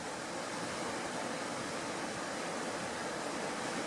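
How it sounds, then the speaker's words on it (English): A large, mostly frozen waterfall in Michigan's Keweenaw Peninsula near Copper Harbor, with some water still moving, producing a soft, steady broadband rush that stays faint and even throughout. "This is a really big waterfall, but it's all frozen up."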